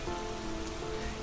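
Steady rain patters softly on surfaces in a calm, even wash of drops, faint and continuous with no voices.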